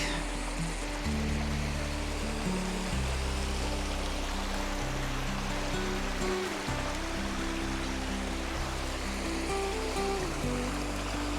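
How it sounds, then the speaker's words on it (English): Conglomerate Creek in the high country near Wonnangatta runs as a steady, broad rush of water, constant and fairly close, with no voices over it. "Conglomerate Creek."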